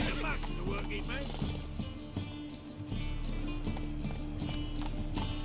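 Horse hooves clip-clopping at a steady trot in The Witcher 3: Wild Hunt, regular rhythmic thuds under continuous game music and character dialogue.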